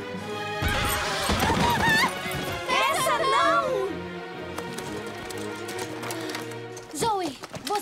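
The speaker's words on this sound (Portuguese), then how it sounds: "Ela tá galopando! Ela sabe que deve ir a meio galope!" A cartoon horse gallops with rapid clip-clop hoofbeats and lets out a loud whinny, set against a busy music score, and another neigh comes near the end.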